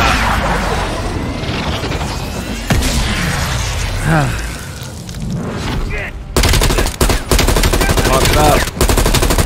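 Gunfire in the Black Ops 6 video game, with heavy shots and rapid bursts alongside crashes and explosions, loud and dense across the whole stretch, with some voices mixed in.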